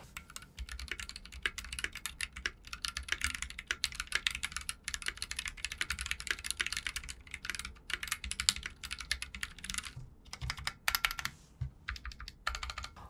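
Rapid, continuous typing on a GMK Skeletor keycap set mounted on a Kbd67 mk II 65% mechanical keyboard, a quiet, close stream of clacky keystrokes with brief pauses and no talking.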